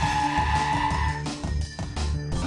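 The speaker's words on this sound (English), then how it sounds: "Full braking was done at 70 km per hour. Without ABS, the vehicle takes longer to come to a complete halt." Car under full braking from 70 km/h without ABS, tires skidding on the road surface; a steady, loud rushing scrub with a faint squeal holds for about two and a half seconds, easing slightly midway.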